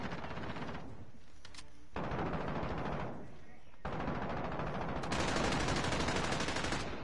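Rapid machine gun fire in Call of Duty, loud sustained bursts of automatic gunfire running almost continuously with brief pauses between volleys, close and dense, with game sounds mixed in.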